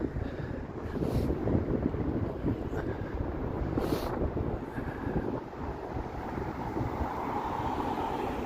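Running water in a city outdoors at evening, a steady broad rushing wash with no breaks, loud and close, mixed with some wind buffeting on the microphone.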